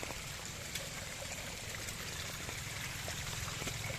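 Clear water from a mountain stream flows and trickles steadily, a constant soft rushing wash with faint gurgles and no voices.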